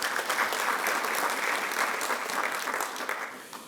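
Steady, close applause from an audience at a formal incorporation ceremony held at a medical college in Peru, sustained for a few seconds and then tapering off, with no voices over it.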